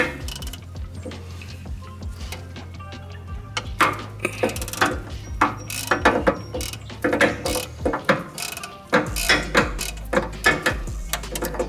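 A ratchet clicks in short bursts as it breaks loose an 8mm nut through an access window on a VW Bug engine, with irregular metallic clicks and knocks close by and no talking.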